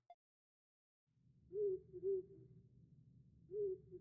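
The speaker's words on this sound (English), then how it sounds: "did I hear a fucking owl?" An owl hooting at night in the video game Ys IX, three low, soft, evenly spaced hoots over a faint low ambient bed, otherwise quiet.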